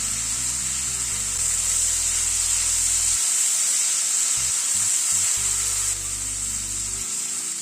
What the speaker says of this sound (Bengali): কফি আর আলুটা 3-4 মিনিট সময় ধরে একটু ভেজে নিলাম।